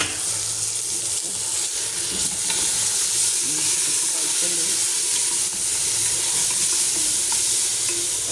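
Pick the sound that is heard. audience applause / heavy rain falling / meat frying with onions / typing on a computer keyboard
meat frying with onions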